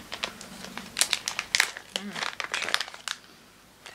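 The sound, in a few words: opening a crinkly packet of tea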